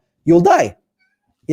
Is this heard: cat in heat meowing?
yes